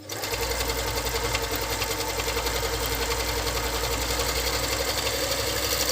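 An Arka Radom FN2-9D household sewing machine stitches fabric in a loud, steady, rapid mechanical whir with a fast rhythmic needle chatter, running continuously and up close with no voices.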